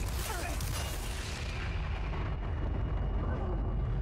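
A grenade blast in Resident Evil 4 (2023) Separate Ways, a loud broadband explosion with a long rumbling tail that slowly fades over several seconds, with a voice talking underneath.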